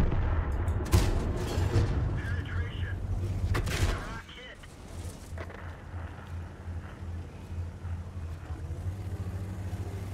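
Artillery and gunfire in the tank battle game World of Tanks: several heavy booming blasts in the first few seconds over a low engine rumble, then a quieter stretch with the engine droning on and a softer shot or two.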